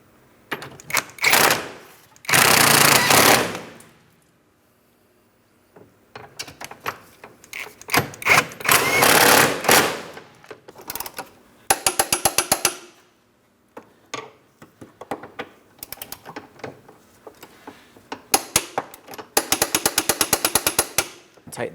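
Subframe bolts on a 2004-2008 Pontiac Grand Prix being run down with a loud impact wrench, which hammers in repeated rattling bursts of a second or two, separated by quieter gaps with scattered clanks.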